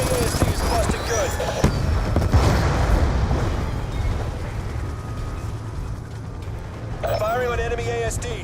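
Artillery fire on enemy units in a video game, loud rumbling booms and blasts filling the scene continuously, with a game voice speaking over the barrage.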